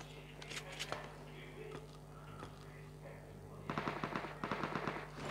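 Video game gunfire in bursts of rapid shots, faint and set back in the mix, clustering more densely toward the end, with a voice speaking over part of it.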